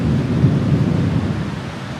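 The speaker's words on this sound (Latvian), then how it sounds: "Zibens jau sākās pērkoņo un lietus līst." Rolling thunder rumbles low and steady through a storm with rain falling throughout, a continuous dense roar with no voices, heard from inside a house as a storm approaches in Dubai.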